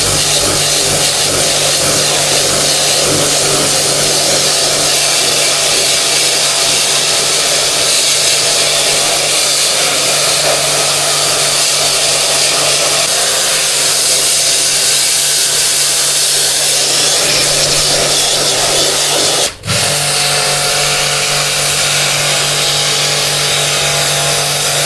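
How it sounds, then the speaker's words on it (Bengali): A pressure washer runs continuously at close range, spraying the dirty cooling coil of a Walton air conditioner's indoor unit during a service, a loud steady motor whine and hiss that cuts out briefly near the end. "পর্যায়ক্রমে হচ্ছে আমরা প্রেশার ওয়াশার দিয়ে কুলিং যে কয়েল সেটি ক্লিন করে নিব"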